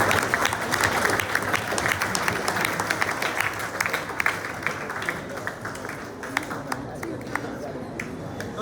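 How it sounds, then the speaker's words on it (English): A hall audience of students and teachers at a community talk gives a sustained round of clapping, a dense patter of many hands that starts strong and tapers slightly toward the end. "Can we have just one round of applause?"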